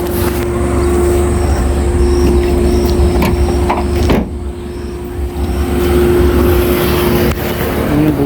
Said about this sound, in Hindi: मैंने बूट लगा दी है।